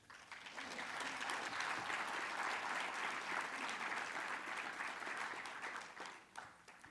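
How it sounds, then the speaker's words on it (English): An audience at an ocean innovation funding announcement breaks into applause, a broad, even roar of many people clapping that swells quickly, holds steady, then tapers off near the end. "And a round of applause, I will invite the panelists to the stage."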